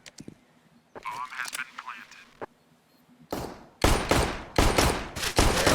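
Gunfire in a competitive Counter-Strike match: after a commentator's voice, loud rapid bursts of shots ring out in several close clusters, each a dense volley of cracks.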